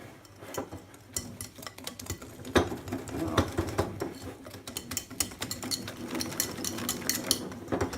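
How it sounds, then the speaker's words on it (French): A whisk beats flour into egg batter for a peach clafoutis, giving quick, irregular clinks and taps against the bowl alongside soft wet stirring, moderately close and continuous throughout. "on bat. On fouette bien."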